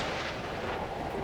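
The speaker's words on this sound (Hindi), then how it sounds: "वो अचानक बिजली की कड़कने की आवाज से डर कर आमिर से लिपट जाती है।" Thunder crack in a rain-soaked monsoon film scene, a loud, dense rumbling burst that fills the whole short moment without any voices.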